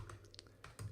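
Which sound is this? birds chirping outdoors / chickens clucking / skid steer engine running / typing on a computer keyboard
typing on a computer keyboard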